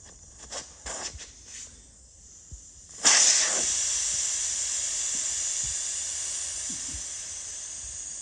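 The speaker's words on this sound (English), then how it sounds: "that's all the air rushing out the tyre" Air rushes from a car tyre once its valve core is removed during tyre changing: a sudden loud, steady hiss that starts partway through and keeps going, close to the microphone, after a few soft handling knocks.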